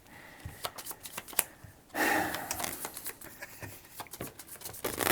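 A deck of KeyForge cards is shuffled close by in a quiet room, with bursts of quick riffling and crisp snapping taps.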